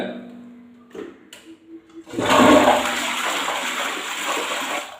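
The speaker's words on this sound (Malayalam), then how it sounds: "ഇതുപോലെ ഒന്ന് ഫ്ലഷ് ചെയ്ത് കഴിഞ്ഞാൽ" A household toilet being flushed during bathroom cleaning: a few soft clicks and handling sounds, then a loud, sudden rush of water that keeps pouring steadily to the end, heard up close.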